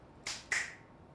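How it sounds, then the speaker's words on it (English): Two sharp finger snaps in quick succession, close and crisp, the second louder than the first, with quiet room tone between and after. "Snap your fingers."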